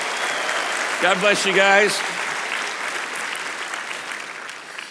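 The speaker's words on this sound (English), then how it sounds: "Would you just clap and say Merry Christmas to all of them?" A church congregation applauds at a Christmas community service, steady clapping and cheering throughout, with a voice speaking briefly over the crowd near the start.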